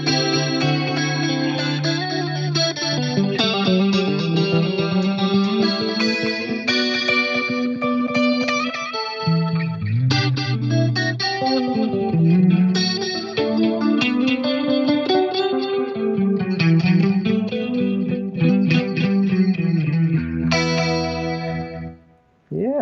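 An electric guitar runs through the Trinity chorus effect in a Line 6 Helix, giving sustained, shimmering notes and chords that are loud and continuous with a brief drop near the end.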